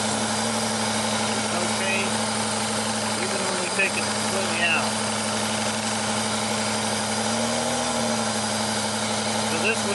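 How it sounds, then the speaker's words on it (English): A car engine idles with its center cylinder misfiring, a steady low rumble with a faintly uneven beat running throughout, close and continuous while someone speaks over it. "You can hear the change in the engine."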